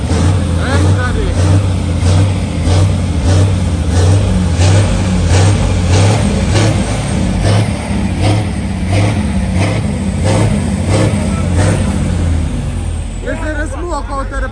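A truck engine, CAT versus ISX, revs hard in repeated loud pulses with a deep droning exhaust, close up, with voices talking and shouting over it.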